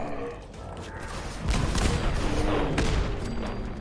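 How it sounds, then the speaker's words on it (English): Weapon fire in the video game Fallout 4 while invisible, a dense, continuous burst of rapid shots that thickens after the first second and keeps up steadily at moderate loudness with no talking. "I'm shooting invisible cannonballs, baby."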